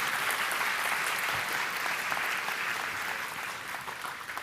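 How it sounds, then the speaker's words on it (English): A large audience at a national quiz competition grand finale gives a round of applause, with dense, steady clapping that fills the whole stretch at fairly even loudness and tapers only slightly at the end. "Give them a huge round of applause."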